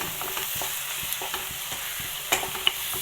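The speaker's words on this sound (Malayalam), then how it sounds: "രണ്ട് സ്പൂൺ മല്ലിപ്പൊടിയാണ് ചേർത്ത് കൊടുത്തിരിക്കുന്നത് എന്നിട്ട് നന്നായിട്ട് ഇളക്കി കൊടുക്കുകയാണ് ചെയ്യുന്നത്" Chicken curry frying in a pan as coriander powder is stirred in, a steady hissing sizzle with rhythmic spoon scrapes and a couple of sharper knocks, near and without talk.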